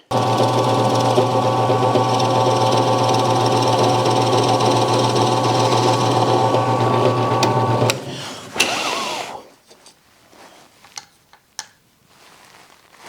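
A drill press motor whine drones loudly for several seconds, then cuts out, followed by scattered clicks and knocks of metal parts.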